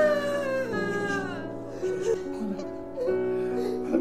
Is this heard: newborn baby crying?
yes